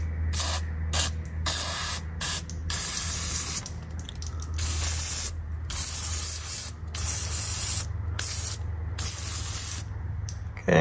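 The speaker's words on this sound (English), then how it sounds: "So I'm gonna grab some penetrating oil and spray this all down." Penetrating oil is sprayed onto the clutch lever mechanism of a 1961 Morris Minor pickup in many close, hissing bursts of varying length, separated by short pauses.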